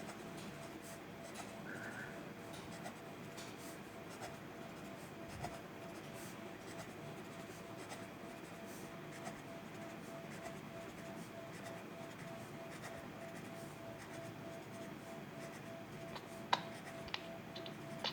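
Pen writing by hand on paper, a faint continuous scratching with occasional soft ticks, steady and close against a low background hiss.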